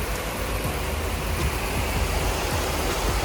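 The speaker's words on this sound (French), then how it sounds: "vraie averse de Thaïlande" Heavy tropical rain pours down in Phuket, Thailand, in a dense, unbroken hiss, steady and enveloping throughout, with no one speaking.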